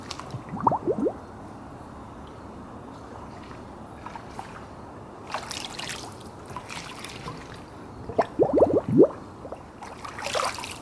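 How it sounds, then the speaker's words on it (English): Gurgling bubbles of air escape through water from a pool vacuum hose in an Intex pool, in a few wet bursts, with quiet sloshing between them. "you can hear the air coming out"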